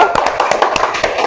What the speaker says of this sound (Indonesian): Tepuk tangan untuk kelompok apel.